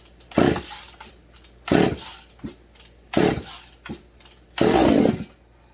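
A Husqvarna 51 chainsaw fitted with a ported 55 cylinder and a freshly cleaned carburetor being pull-started: four loud bursts of firing and revving in a rough, uneven rhythm with short gaps between, close by.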